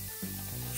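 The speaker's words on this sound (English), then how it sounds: "In the water, it's like fizzing in the water. It's melting away." A LOL Surprise shell fizzes as it melts in water, a soft continuous hiss and sizzle heard up close, with no talking.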